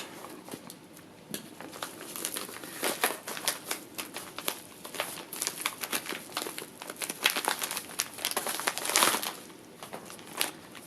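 A plastic bag package holding a TMC ODN helmet cover crinkles and crackles as it is handled and opened, with irregular bursts of rustling over several seconds.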